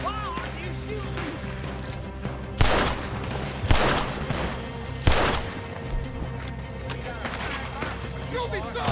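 Gunfire during a shootout at a moonshiner camp in Red Dead Redemption 2, several sharp separate shots cracking over ongoing game noise and voices.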